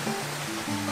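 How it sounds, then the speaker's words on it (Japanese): A small waterfall in the garden of a hot spring inn gives a soft, steady splashing rush, with faint tonal hums layered over it in a brief, quiet stretch. "滝があるの、かわいらしい。"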